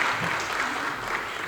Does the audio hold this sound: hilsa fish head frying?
no